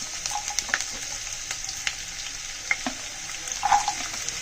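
Minced ginger, green chilli and garlic frying in oil while being stirred, a quiet steady sizzle broken by scattered light clicks and scrapes of the spoon against the pan.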